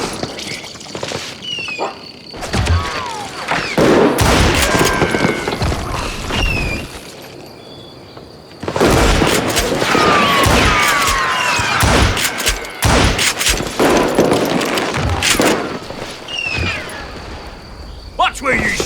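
Frequent sharp gunshots in the video game Call of Juarez: Gunslinger, in rapid clusters across two loud stretches with a quieter gap between, mixed with shouting voices and game sound effects.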